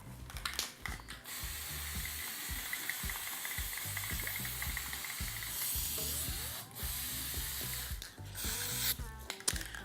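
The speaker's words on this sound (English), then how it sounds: "we're first going to apply a base coat using white spray paint" White spray paint goes on as a base coat in a continuous hissing spray, interrupted by short rattling and clicking bursts from the can, moderately close with no voices.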